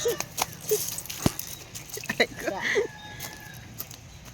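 Chickens clucking with a rooster's crow in the mix, scattered calls over a rural outdoor background, fairly close.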